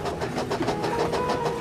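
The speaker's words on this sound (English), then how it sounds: "Another engine wheezed as Edward clanked into the station." Steam engine clanking into a station, a steady rhythmic chugging with repeated metallic clanks and faint hissing, continuous and fairly close throughout.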